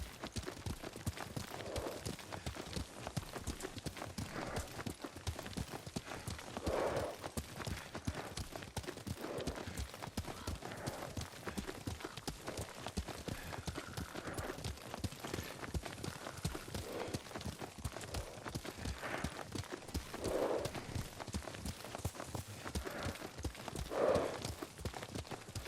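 Steady, rhythmic hoofbeats of a horse being ridden in the samurai game Ghost of Tsushima carry on throughout at an even trotting pace, moderately loud and close, with soft ambient sounds behind.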